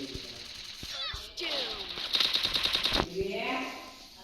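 Rapid automatic gunfire in a Free Fire ranked match, a loud burst of closely spaced shots lasting about a second, with other game effects and sweeps around it and no voices.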